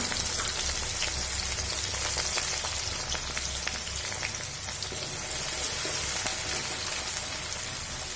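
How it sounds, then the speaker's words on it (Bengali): Steady, dense sizzling of onions frying in hot oil, a continuous crackling hiss with no talking. "পেঁয়াজটা খুব সুন্দর করে ভাজা করে নেব"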